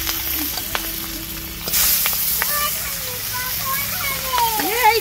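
Fish tails frying in hot oil in a pan, a constant sizzle that swells as pieces go in, with utensil clinks and a voice speaking briefly nearby.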